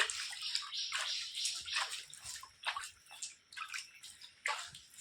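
A small child splashes and sloshes bathwater during a hot-weather bath at home, giving a close, steady run of bright splashes and trickles with short pauses between, and no voices.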